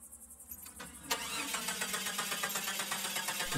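A car engine cranks briefly and catches, then settles into a steady idle rumble, close and fairly loud with no talking.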